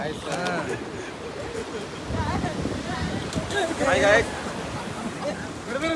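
Forceful floodwater of the swollen Bhima river rushing in a steady broadband roar, with people talking over it throughout.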